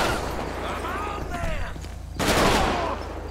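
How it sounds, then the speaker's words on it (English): Rapid gunfire bursts in Grand Theft Auto V with the LSPDFR police mod, set in a desert area, loud and dense, with a sharp louder volley near the end over a steady low rumble. "Shot fired, shot fired."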